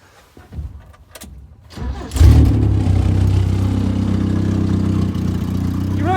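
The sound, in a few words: Toyota Wolverine engine cranking and starting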